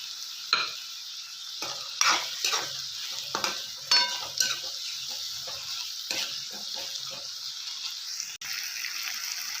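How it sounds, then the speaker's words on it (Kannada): Onion, tomato and peas frying in a pan for an aloo peas curry give a continuous soft sizzle under repeated close scraping stirs and light spoon taps, with no voices. "ಚೆನ್ನಾಗಿ ಫ್ರೈ ಮಾಡ್ಕೊಳ್ಳೋಣ. ಸ್ವಲ್ಪ ಉಪ್ಪು ಹಾಕೊಳ್ಳೋಣ. ಉಪ್ಪು ಹಾಕೊಳ್ಳೋದ್ರಿಂದ ಟೊಮೊಟೊ, ಬಟಾಣಿ ಹಾಗೆ ಈರುಳ್ಳಿ ಮೆತ್ತಗಾಗ್ತಾವೆ."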